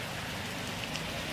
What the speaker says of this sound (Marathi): पाऊस येतो थोडा थोडा